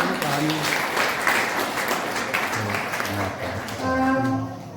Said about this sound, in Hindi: इन सभी बच्चों के लिए एक बार जोरदार तालियां बजाएं